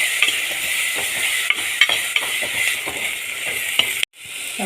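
Tomato and turmeric powder fry in a hot pan for a Kerala-style fish curry, a steady broadband sizzle broken by several short scraping stirs, ending in a brief near-silent gap before the sizzle returns.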